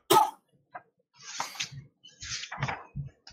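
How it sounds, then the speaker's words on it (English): A man coughs several times in short, separate bursts up close, with a throat-clearing sound among them and no speech between. "Can I just apologize for my coughing, by the way?"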